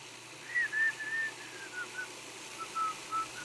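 Faint, soft whistling of short, wavering notes, drifting up and down in pitch over a low background hum.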